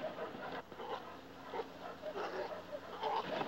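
A dog whimpers and yips in short, uneven bursts while being held tightly, its thin cries rising and falling over a steady background rumble at close range.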